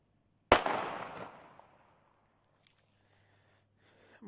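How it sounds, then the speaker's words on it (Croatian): Handheld New Year firecracker lit and exploding, a single sharp loud bang followed by a fading echo tail, then near silence and a faint rustle at the end. "sad ćemo neku petardu da zapalimo"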